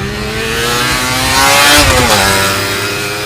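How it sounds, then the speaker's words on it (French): Motorcycle engine revving hard past 6500 rpm as its electronic exhaust valves open, a loud, steady rising howl that swells in the middle and eases off, with no voices. "Aucune moto ne sera jamais aussi drôle que celle-là quand le régime moteur passe la barrière des 6500 tours"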